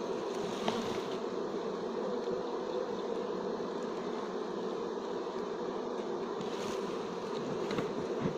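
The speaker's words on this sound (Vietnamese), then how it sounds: "Ong thợ bắt đầu ra." A dense swarm of worker bees streams out of a deep rock cave nest, making a steady, loud buzzing hum that holds unbroken throughout, with a few individual bees whining past close by.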